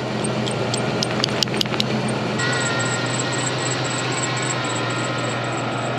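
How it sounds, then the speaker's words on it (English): A Range Rover 4.6 camper engine runs steadily with a broadband roar and a thin, continuous high-pitched belt squeal. A few short clicks sound early, then the squeal settles into a constant tone above the engine. "Other than that annoying belt squeal, the camper sounds good again. Engine is still quiet."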